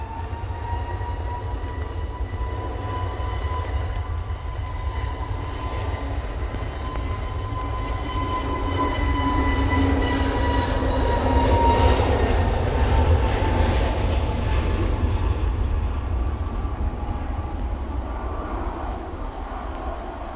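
Airliner departing Manchester Airport for Palma de Mallorca in windy weather, a steady roaring jet engine rising slightly mid-way with a whining tone, heard alone at a distance.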